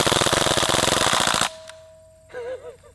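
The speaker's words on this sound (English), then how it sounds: "Full auto, actually pretty powerful for a CO2 powered full auto BB gun." A CO2-powered full-auto BB gun, a DPMS SBR replica, fires a rapid rattling burst of about 30 shots for a second and a half, loud and close, then stops, followed by a metallic ringing tone and a brief warbling sound.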